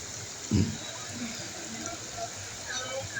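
The Behula river flows in a steady, continuous rush of water, heard at moderate distance. A brief low thump comes early, and faint voices can be heard in the background.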